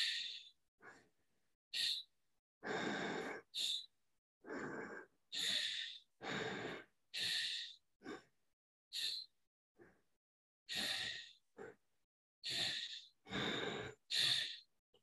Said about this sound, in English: Let's do this time fast, 10 breathing fast, and then we pause